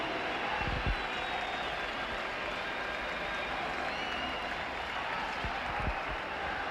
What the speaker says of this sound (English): He gets a fabulous reception here from the crowd.